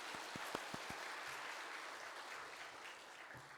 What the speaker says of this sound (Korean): 우리 샬롬 찬양대의 찬양을 받으실 하나님께 감사와 영광의 박수 올려드리겠습니다.